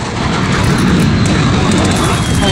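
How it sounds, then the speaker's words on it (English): A precision airstrike jet flyover in Modern Warfare, a loud sustained roaring engine wash that fills the whole stretch, with a voice talking underneath. "that's the precision airstrike kills me!"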